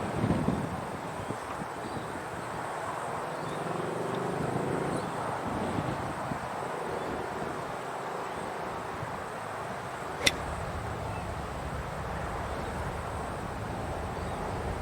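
Strong wind blowing outdoors during golf practice, a steady rumbling roar and buffeting across the microphone throughout, with one brief sharp click partway through.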